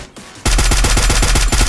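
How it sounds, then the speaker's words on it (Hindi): Automatic gunfire in a battle royale video game erupts suddenly after a quiet moment, a loud, close burst of rapid, evenly spaced shots running continuously to the end. "नीचे से गोली चल रही है आई थिंक"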